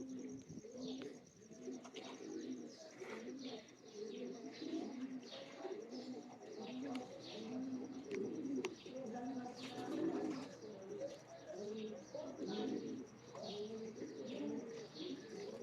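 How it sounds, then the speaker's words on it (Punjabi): Teddy pigeons coo steadily nearby, a dense, overlapping chorus of soft, low burbling calls with occasional chirps and faint voices in the background. "ਇਹ ਕਬੂਤਰ ਇਹ ਟੈਡੀ ਹੈ"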